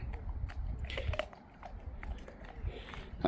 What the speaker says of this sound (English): to lick and chew his ice cube.